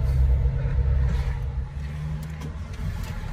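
An old Fiat 127 car engine runs with a low, steady rumble close by, its loudness dipping slightly partway through, with no talking.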